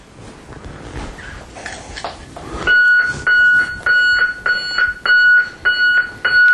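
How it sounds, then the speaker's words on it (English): LaserShield alarm system going off, a loud piercing electronic beep pulsing in a regular rapid rhythm that starts abruptly after a stretch of quieter clicks and handling noise. "And now I will go into alarm mode."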